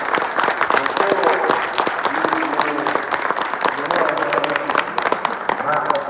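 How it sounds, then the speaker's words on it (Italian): Sustained crowd applause at a Subbuteo tournament, dense and fairly loud, with voices talking and calling out underneath the clapping. "vi chiedo un applauso per Leonardo"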